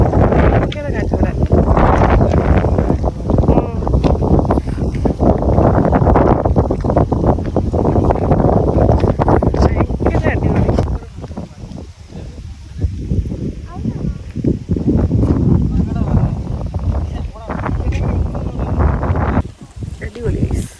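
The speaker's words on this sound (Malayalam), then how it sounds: "ഇവിടെ ഭയങ്കര കാറ്റാട്ടോ, ഭയങ്കര കാറ്റ് ഇവിടെ." Strong wind at a hilltop viewpoint in the Ambanad Hills roars and buffets the microphone loudly and continuously, easing briefly near the middle before gusting back up.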